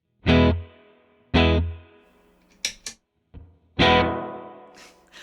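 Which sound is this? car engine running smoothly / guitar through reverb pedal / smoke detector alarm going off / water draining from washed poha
guitar through reverb pedal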